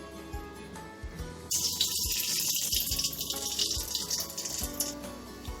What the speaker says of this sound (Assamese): এয়া মোৰ তেল গৰম হৈ গৈছে। ইয়াতে মই দিম লং, ইলাইচি, দালচেনি।